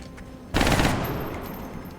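A sudden burst of automatic gunfire in the strategy game Long War erupts loudly, then decays into a lingering rumbling tail over steady background hum.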